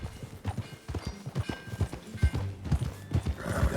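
Horse hooves clip-clop at a walk in Red Dead Redemption 2, close and steady on a hard surface, mixed with tack rattle and snorting and a busy low ambient bed.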